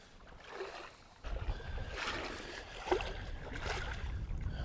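Steady sloshing and churning of flood water as someone wades through it on foot, with heavy surges of water swirling around the legs, close and continuous with no talk.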